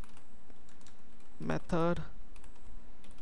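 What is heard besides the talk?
typing on a computer keyboard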